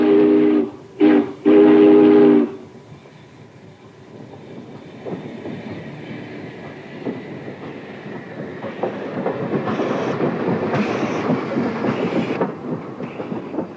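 Union Pacific Challenger steam locomotive, a 500-ton engine, sounds several loud whistle blasts and then rumbles and chuffs through the Wyoming mountains on Sherman Hill, the train noise building steadily.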